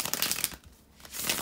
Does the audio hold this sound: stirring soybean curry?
no